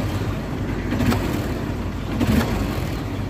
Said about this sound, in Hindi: गाड़ी के इंजन का करंट साउंड